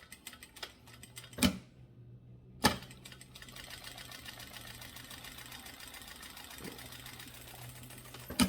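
A sewing machine runs in a steady, continuous whir while stitching a zipper onto a fabric cable holder, with a few sharp knocks at the start.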